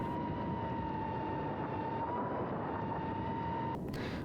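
Stock GEPRC CineLog 25 cinewhoop drone carrying an Insta360 Go 2 camera in flight, giving a steady, loud motor whine with a sustained tonal hum and broadband rush throughout, shifting abruptly near the end.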